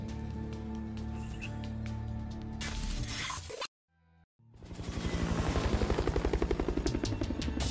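A helicopter in the video game Ghost Recon Wildlands carries a team across a border before dawn: a loud, steady rotor drone cuts out briefly, then returns as a rhythmic, thumping chop that keeps building.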